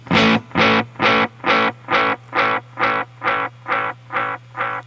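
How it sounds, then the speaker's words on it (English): Repeating echoes from an Echoplex tape echo unit, a loud effected tone repeated about ten times in an even pulse, each repeat slightly darker and fainter as it loops, with a steady low hum underneath. "So it's just looping back over and over and over and over again to create multiple echoes"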